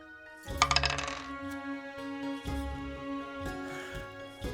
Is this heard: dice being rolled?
yes